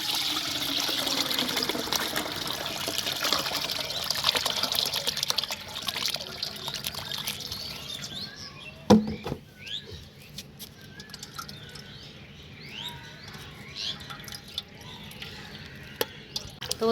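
Homemade liquid fertilizer for rose plants poured through a sieve into a bucket: a steady splashing trickle that thins to scattered drips and patters, close, with a sharp knock midway.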